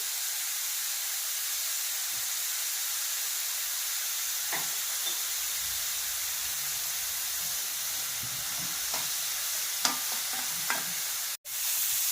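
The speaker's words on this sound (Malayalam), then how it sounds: "സബോള ഇട്ടിട്ട് ഉപ്പ് ചേർക്കുമ്പോൾ സബോള നന്നായിട്ട് വഴന്ന് വരും" Onions sauté with salt in a pan for broken wheat uppuma. A steady, close sizzle carries throughout, with a few faint scrapes of stirring and no voices.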